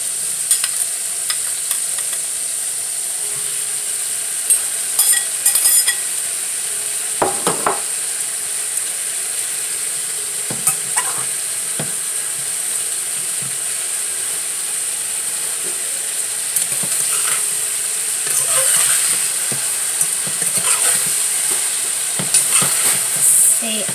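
Salted fish fries in hot oil with a loud, unbroken hiss and sizzle that runs throughout. Intermittent scrapes, clicks and knocks of a utensil stirring in the pan cut through it.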